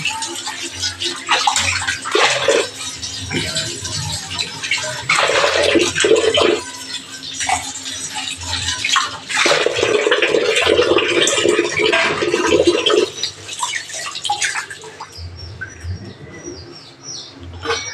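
Water splashes and rushes steadily at close range while something is washed and rinsed while making chapati at home, with birds chirping in the background throughout.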